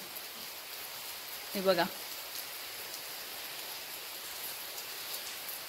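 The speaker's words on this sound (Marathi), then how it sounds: "बघा पावसाला सुरुवात झालेली आहे सगळीकडून" Monsoon rain falls steadily all around the Rameshwar temple in Kurang village in the Konkan, a soft, even hiss throughout, with a person's voice speaking briefly near the start.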